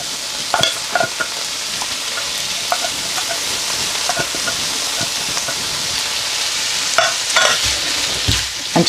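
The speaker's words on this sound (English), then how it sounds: "we're just going to fry these for about a minute just to get rid of the rawness, and then straight in with the can of tuna" Green chilies fry and get stirred in a pan for tuna masala, followed by tinned tuna going in: steady close sizzling with scattered clinks and scrapes of stirring and a few louder bursts toward the end, with no talking.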